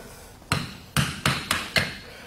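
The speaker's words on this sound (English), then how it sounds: "And then use a gouge. I set it straight, tap in," A hammer taps a gouge into a horse's hoof during front-foot trimming: five sharp, close, fairly loud knocks, spaced about half a second apart, with no talk.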